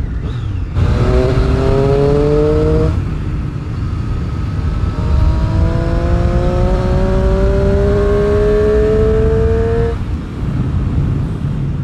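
A 2018 Triumph Street Triple R motorcycle engine revs loudly while riding, rising in pitch through two smooth acceleration pulls with a shift in between, close and dominant over wind rumble.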